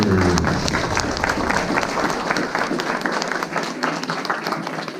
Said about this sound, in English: big round of applause for our Oper Scholars